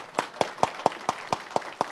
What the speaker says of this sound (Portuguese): Vamos bater salva de palmas.